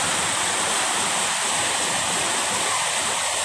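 Creek water flows steadily on a rainy afternoon, a dense continuous rushing and babbling wash, loud and close, with no voices over it.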